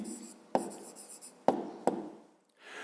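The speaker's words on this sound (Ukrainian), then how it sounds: "Пишемо відповідь." A pen writes an answer for a fifth-grade maths exercise, scratching softly across paper with a few sharp taps, close and alone.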